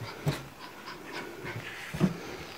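A dog pants in short breathy bursts while raccoons pester it, with two sharper whimper-like accents standing out over a steady faint rustle.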